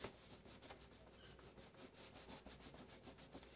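Rhythmic rubbing strokes of a new tea towel buffing embossing-paste card, a steady run of soft, close, repeated swishes with no talking.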